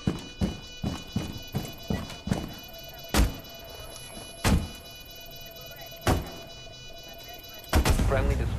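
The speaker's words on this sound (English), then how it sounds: "Point blank shotgun him in the face" Sharp, loud gunshot blasts in Rainbow Six Siege, a rapid run of close thuds at first and then single heavy booms spaced a second or so apart, with faint game sounds between them.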